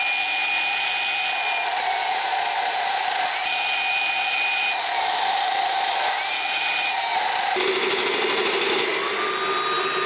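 A cordless rebar cutter runs at a high steady whine while slowly cutting through metal, a loud continuous tone that shifts pitch in steps as the blade bites, with no talking.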